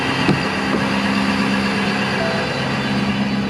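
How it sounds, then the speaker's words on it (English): A new Ford vehicle driving on streets in Mexico gives off a steady, loud engine drone with road rumble, unchanging throughout with no talking. "Let's see how this new Ford rides."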